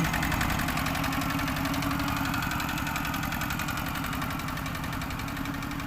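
A steady, rumbling large farm tractor engine runs continuously at close range, loud and unchanging, with a rough mechanical throb.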